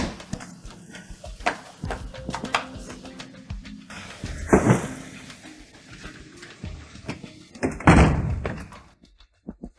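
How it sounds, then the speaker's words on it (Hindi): Indoor sounds of a door being handled and opened, with scattered knocks and thuds and two louder bangs at the middle and near the end, plus faint bird calls. "दरवाजा खोलो।"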